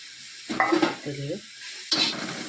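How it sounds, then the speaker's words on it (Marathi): Tiny dried shrimp dry-roasting on a flat griddle for a coastal Konkan jackfruit dish, giving a few short bursts of dry scraping, stirring and light rattling at close range, with brief quiet gaps between them. "त्याच तव्यात मी आता जवळ भाजून घेते"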